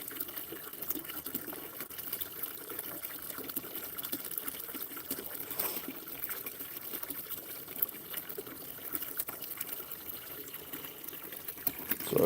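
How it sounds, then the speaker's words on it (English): Water pours steadily into a deer water container on a deer farm, a soft continuous trickle and splash heard fairly faint and alone, with no talking. "So just filling up that water there with the sidectin."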